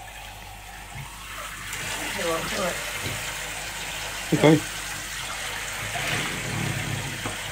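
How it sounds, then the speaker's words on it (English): Shower water hosing down a French Bulldog during a bath, a steady close hiss of spraying water with occasional splashes and knocks, and a voice speaking briefly over it. "Hose him down properly with the shower, you love that."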